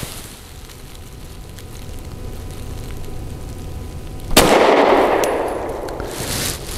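A single loud 9mm pistol shot from a 365 XL with a 3.7 inch barrel firing PMC Bronze 115 grain ammunition, a sharp crack about two-thirds through that rings off after quiet outdoor background, with no talking.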